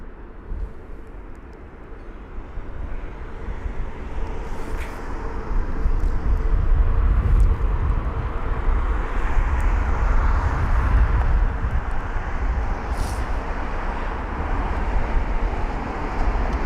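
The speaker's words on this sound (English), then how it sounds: "We have got the A320-200 of Paris. Yeah, sorry, that is from Paris CDG, a 54-minute long journey on board the British Airways 320" A British Airways Airbus A320-200 arriving from Paris CDG at London Heathrow, a broad low jet rumble that swells from moderate to loud and holds through a long pass, heard from a distance outdoors.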